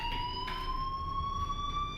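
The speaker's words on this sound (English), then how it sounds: "Hey, do you hear that fire alarm?" A fire alarm in the video game Life Is Strange sounds as a steady, continuous electronic tone with faint pulsing, heard at moderate level against a low background hum and no talking.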